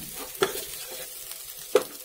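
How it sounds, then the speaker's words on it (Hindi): Potatoes frying with cumin in a pan, a steady sizzle broken by two sharp scraping stirs of a spoon against the pan, close with no talking. "हम डाल देंगे आलू इसमें, और इनको चला लेंगे यहाँ पे लगातार"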